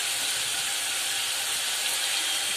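Steady frying sizzle as tomato masala with rock salt is sautéed for a spicy Tamil fish curry (meen kuzhambu), a continuous close hiss with no talk.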